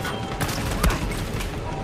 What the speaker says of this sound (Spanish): hay mucho tiroteo acá